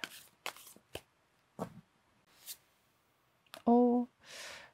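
Tarot cards shuffled and dealt onto a table, a series of soft, separate rustles and flicks spaced irregularly, with a brief voice near the end and a final longer swishing slide.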